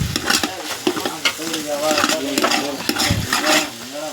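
Chopped tomatoes fry in a pan for Maggi noodles while a spoon stirs them, close and loud, with steady sizzling and repeated scraping strokes; a voice is faintly audible underneath.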